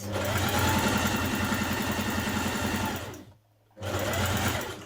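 Sewing machine stitching a dart on a Simplicity 8735 wrap dress, a loud steady close whir with a fast even pulse that stops briefly and then starts again.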